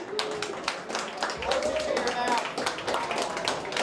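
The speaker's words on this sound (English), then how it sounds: "Can I get a round of applause, please?" An audience at a crypto networking meetup in New York City claps through a brief round of applause, scattered hand claps at moderate level with voices talking underneath.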